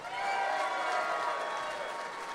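Applause from a large crowd at a University of North Carolina Tar Heels football signing day celebration, a dense steady wash of clapping with a few cheers mixed in, sustained throughout.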